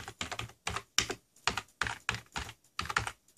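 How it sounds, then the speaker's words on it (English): Fingers tap quickly on a computer keyboard, a close, clear run of clicky keystrokes in short bursts with brief pauses between words. "let's type in baby monitor"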